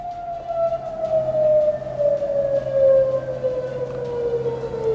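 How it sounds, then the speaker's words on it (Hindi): Air raid sirens wail steadily and continuously during an attack in Bahrain, one dominant tone slowly falling over a low rumbling background, with fainter sirens layered behind it. No voices are heard. "सायरन लगातार बज रहे हैं।"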